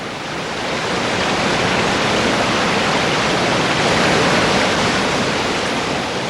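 Water flowing out of forest soil makes a continuous, loud, even rushing hiss that swells slightly and holds steady throughout, with no voices.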